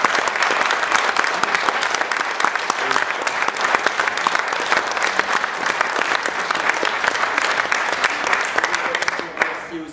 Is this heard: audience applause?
yes